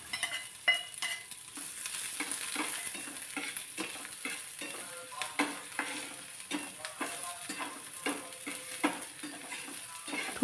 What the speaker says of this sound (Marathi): थोडासा लालसर कलर येईपर्यंत कांदा मी इथे परतून घेतलेला आहे